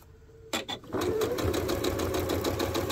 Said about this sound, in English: So let me sew off.